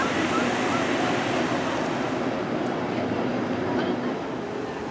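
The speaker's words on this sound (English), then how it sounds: "More testing going on, this time with some of the water jets." Water jets spray in a continuous broad hiss during a Rivers of Light show test at Disney's Animal Kingdom, loud and steady outdoors with wind noise throughout.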